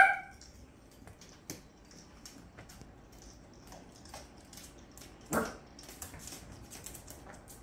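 A dog barks at a motorized microfiber mop ball toy. There are a few sharp barks close by, one loud and one louder near the end, with scattered clicks and rustle between them.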